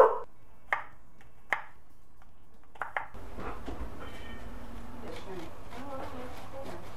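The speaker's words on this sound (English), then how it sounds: "then we're going to chop up our apples" A few sharp knife chops on a cutting board as apples are cut for butternut squash soup, isolated close taps with gaps, followed by quieter kitchen clatter.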